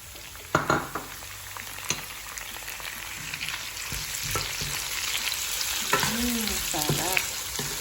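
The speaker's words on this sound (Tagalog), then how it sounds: "After 30 seconds of stirring the chili flakes, now we can add the corned beef." Corned beef with chili flakes frying in a pan, a steady sizzle building under clanks and scrapes of stirring, with a few sharp knocks from the utensil against the pan.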